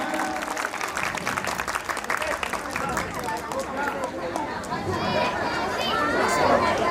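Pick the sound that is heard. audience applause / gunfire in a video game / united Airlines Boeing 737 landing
audience applause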